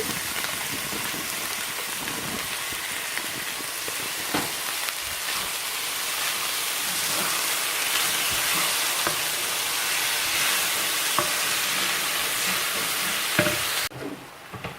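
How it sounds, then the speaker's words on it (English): Beef mince fries in a hot pan, making a loud, continuous crackling sizzle with occasional scraping stirs, close up and with no talking. "Mince is going in."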